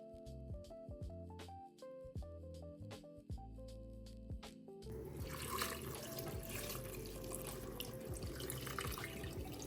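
After a few seconds of spaced, ringing clinks, water rushes steadily into a pot of sauerkraut and mushrooms, a continuous close splashing pour that lasts to the end.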